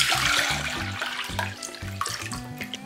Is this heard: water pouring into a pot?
yes